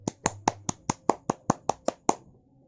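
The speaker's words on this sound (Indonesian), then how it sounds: "Beri tepuk tangan untuk kita semua." Children in a second-grade classroom clap in unison, about eleven sharp, evenly spaced claps over a couple of seconds, close and clear, then stop.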